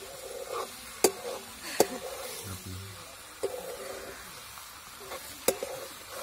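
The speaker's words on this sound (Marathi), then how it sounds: "आता सोयाबीन टाकलेला आहे आणि आपल्याला तो व्यवस्थित त्याच्यात मिक्स करून घ्यायचा आहे" Soybeans being stirred into fried spice masala in a pan, with a soft steady sizzle under scattered sharp scrapes and clinks of the spoon against the pan, close and fairly quiet.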